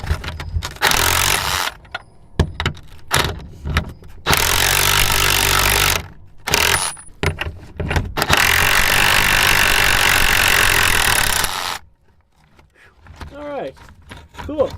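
A power tool cuts through a stuck bolt on an old Stepside truck, running in loud close bursts of harsh grinding separated by short pauses, then stopping as the sound drops to quiet.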